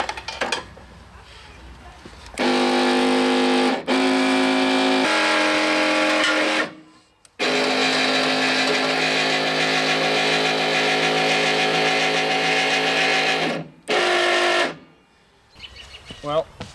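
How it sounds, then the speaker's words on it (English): An electric trailer jack motor on a travel trailer runs noisily in loud, sustained bursts with a strained mechanical whine, stopping briefly between runs before starting again. "Well, motor works, but it's making a lot of noise."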